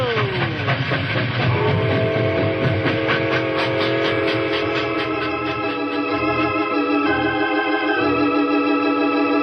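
Locomotive train racing downhill as a radio drama sound effect: a loud, continuous rumble with steady rhythmic chugging and wheel clatter, a whistle wailing over the top, and a brief spoken word near the start.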